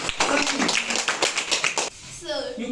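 A classroom of students clapping their hands together, a brief burst of fairly loud, uneven applause that fades quickly as a voice speaks at the end.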